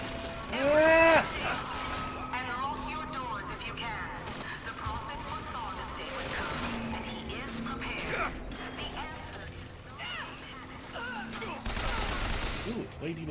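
Bioshock Infinite gameplay with bursts of video game gunfire and impacts mixed among game effects, while people talk and exclaim over much of the action.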